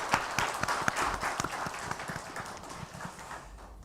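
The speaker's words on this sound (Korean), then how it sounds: "우리 박정원 성도님의 새로운 여정 가운데 주님이 함께하시기를 축하의 박수 해주시기 바랍니다" A church congregation at a Sunday worship service claps in congratulation, a scattered, light round of applause that thins and fades toward the end.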